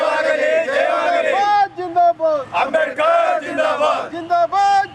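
A large crowd at a Bhima Koregaon victory celebration loudly chants slogans in unison, with repeated rhythmic cries rising and falling close by.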